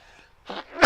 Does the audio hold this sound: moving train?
no